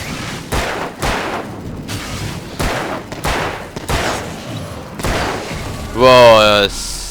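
Repeated gunshots from the video game Alan Wake ring out in a steady series of about seven sharp blasts roughly every half second, ending in a brighter tonal burst, loud and close.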